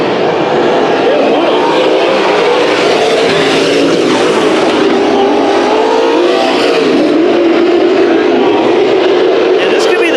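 Pro Stock race cars roar around Bakersfield Speedway in a heat race, engines loud and sustained with a continuous revving drone throughout, a commentator talking over the noise.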